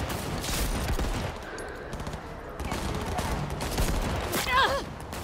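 Sustained bursts of gunfire from a police officer in a futuristic open-world shooter, a dense rattle of rapid shots continuing throughout with a brief electronic chirp near the end.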